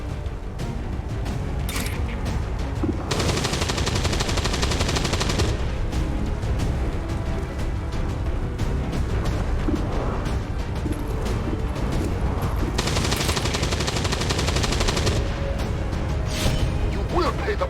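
Dense, continuous gunfire and explosions in the XCOM 2: War of the Chosen video game, loud and sustained, with overlapping bursts of automatic fire. Game voices talk over the action.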